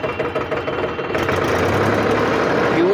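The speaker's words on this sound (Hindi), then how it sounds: "चलिए स्टार्ट करते हैं ट्रैक्टर।" A 55-horsepower tractor engine runs steadily after starting, a dense continuous mid-range drone with knocking texture, close and loud, holding an even level for the whole stretch.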